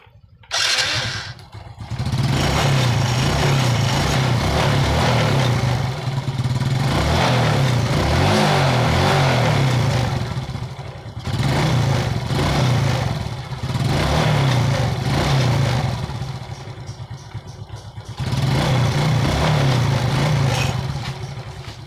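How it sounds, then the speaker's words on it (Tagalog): A Suzuki Smash motorcycle engine starts up, then revs loudly in several long bursts with brief dips between them, close and steady. "panda rin natin yung ating motor"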